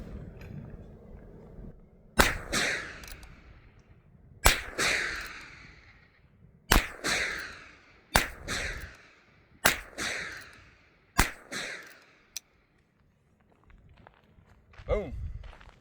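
Heritage Rough Rider revolver with a 16-inch custom stock firing .22 Long Rifle rounds outdoors, six sharp cracks spaced roughly 1.5 seconds apart, each with a short echoing tail, then a faint click.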